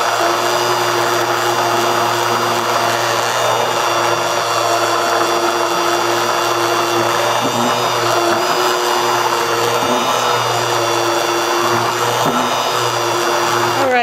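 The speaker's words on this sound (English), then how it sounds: "You may have to adjust the speed of your mixer as it starts to thicken." Electric mixer whipping a thickening allantoin facial serum, a loud steady whir with a constant motor hum that runs close and unbroken throughout.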